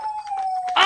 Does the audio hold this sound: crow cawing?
no